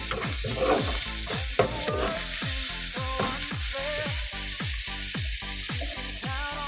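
Tomatoes sizzle loudly in a pan for squid adobo with string beans while a utensil scrapes through them in quick, regular stirring strokes, close and continuous, with no talk.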